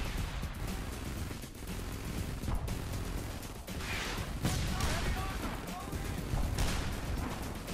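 Rockets and gunfire trade from both sides in the shooter Frontlines: Fuel of War, a continuous barrage of bursts, cracks and booming impacts with sharper blasts near the middle, heard with talking over it.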